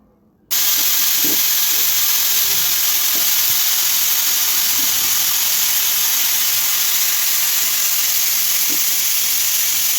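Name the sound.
pressure cooker hissing on high heat while cooking beef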